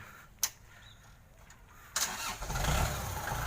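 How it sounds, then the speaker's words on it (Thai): A Kubota L4708SP tractor engine is cranked and catches after a couple of short clicks, the starter whirring before the diesel fires and settles into a loud, rough idle nearby. "เดี๋ยวลองฟังเสียงเครื่องนะครับ"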